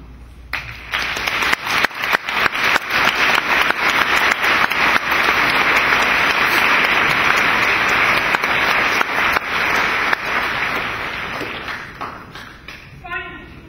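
Graduation audience applauding teachers and staff: scattered claps build quickly into a full, steady ovation that holds for several seconds, then thins out and fades near the end.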